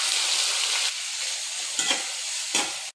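Onions for a tomato chutney hit hot oil in a pan and fry with a loud, steady close sizzle, broken by two brief stirring scrapes near the end before the sound cuts off.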